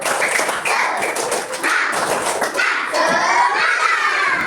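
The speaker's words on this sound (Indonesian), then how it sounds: "Ice breakingnya tepuk semangat." A third-grade class of children doing the rhythmic tepuk semangat spirit clap, fast patterned hand claps and taps in quick bursts with children's voices chanting along.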